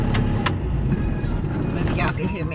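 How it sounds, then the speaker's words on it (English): A truck engine idles loud and close with a low, steady rumble through the whole stretch, with a brief jingle of keys near the start as it is being switched off. "Let me cut the truck out."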